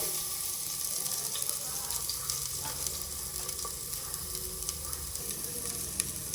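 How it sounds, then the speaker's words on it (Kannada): Sliced onion sizzles steadily in hot oil in a pan for okra sambar, a constant close frying hiss with faint stirring clicks and no talk. "ಈಗ ಇದಕ್ಕೆ ಸ್ವಲ್ಪ ಆಯಿಲ್ ಹಾಕ್ತಾ ಇದ್ದೀನಿ. ಈಗ ಒಂದು ಈರುಳ್ಳಿ ಹಾಕ್ತಾ ಇದ್ದೀನಿ."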